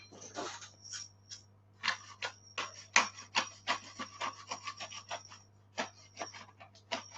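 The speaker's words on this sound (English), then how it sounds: "do you want to grind some black pepper in it?" Black pepper being ground in a hand pepper grinder in a home kitchen while making a pie: a run of short, dry rasping crunches in irregular bursts, close and clear, with no talk.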